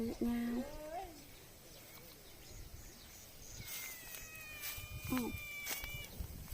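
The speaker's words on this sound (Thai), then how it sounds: "มีแมวอยู่ในนี้บ่" A cat meows near a rural home, with a clear cry at the start and another around five seconds, while people talk in the background.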